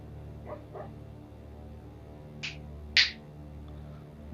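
A dog dreaming on its bed beside the speaker lets out a few soft, muffled yips, two faint early ones followed by two sharper, louder barks, over a steady low hum.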